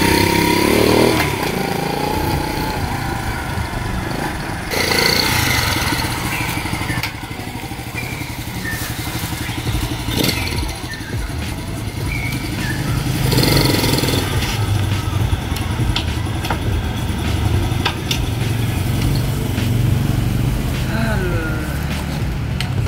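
Gas-gas Gorilla motorcycle engine running steadily while being ridden, a continuous buzzing drone with a few throttle swells, carrying on at even loudness throughout.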